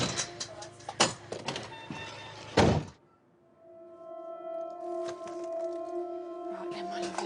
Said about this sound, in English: I'm going to take this ambulance. They're going to take Terry. You can both come, that's not a problem, all right? I'm just going to shut your doors now